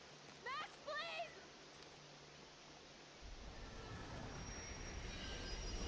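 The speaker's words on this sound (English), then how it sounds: "The train's coming!" Train approaching on rails in the game Life Is Strange: a low steady rumble grows louder and nearer, with high squealing wheel tones late, after earlier bursts of shouted speech.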